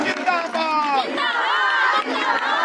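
A crowd at a BJP public rally in Kashipur's Ward 17 cheers and shouts to welcome Deepak Bali, with many overlapping voices in a loud, steady din that continues throughout.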